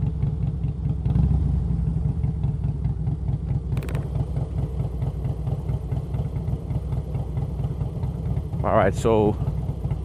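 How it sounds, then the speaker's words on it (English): Motorcycle engine cruising with the clutch pulled in, a steady low drone with periodic firing pulses, close and continuous throughout; someone speaks briefly over it and a short rising whine shows near the end. "I'm just cruising down. I have the clutch pulled in"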